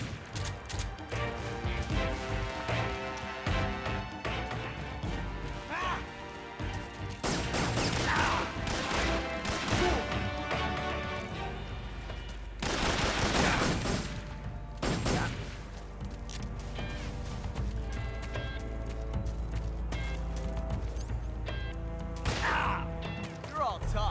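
Gunfire in the video game Metal Gear Solid 3: Subsistence rings out in scattered loud bursts and rapid volleys, with heavier impacts and a low rumble in between, while a voice talks over parts of it.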